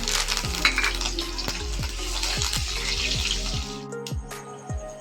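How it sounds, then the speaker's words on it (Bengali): Curry leaves fry in hot oil left from frying flattened rice and peanuts, a loud close sizzle punctuated by regular clicking stirring strokes. The sizzle fades near the end and a few scattered clicks remain. "এবারে একই তেলে আমি কারি পাতাটাকেও ভেজে নিচ্ছি।"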